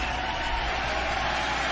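Steady, dense applause from a studio audience at a talk show, filling the whole stretch at an even level without pauses or voices.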